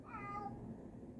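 A cat meows once, close and faint, in a short plaintive cry wanting to be let outside, fading quickly into quiet room noise.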